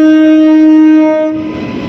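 A passenger train running six hours late sounds a loud, sustained horn tone close by, fading after about a second into rumbling rail noise.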